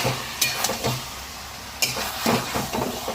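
Marinated chicken is stirred and fried in spiced masala for chicken maharani. Loud sizzling runs under repeated scraping strokes and sharp clinks of a spatula against the pan, about a half-dozen distinct strokes.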